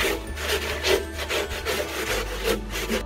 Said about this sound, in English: I'll just give this a good wipe down and should be fine then.